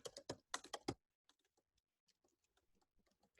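Typing on a computer keyboard: a quick, fairly loud cluster of key presses, then lighter, sparse, quiet taps trailing off.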